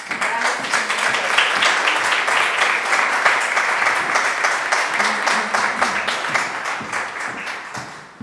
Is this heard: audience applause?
yes